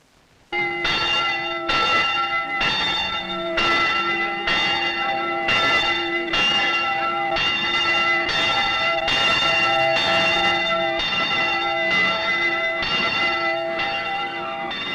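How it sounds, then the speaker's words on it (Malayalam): A church bell rings in a steady, even rhythm, about one loud clang each second with a long ringing tail, close and alone throughout the stretch. "പാത്തുക്കുട്ടി, പള്ളിമണിയല്ലേ കേക്കണേ?"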